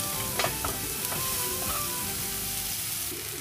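Chicken fillet sautéing with garlic and onion in a pan makes a brief, steady sizzle with a couple of stirring clicks near the start. It is close and moderately loud, with no talk.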